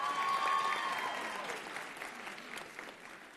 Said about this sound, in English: Round of applause for her as well.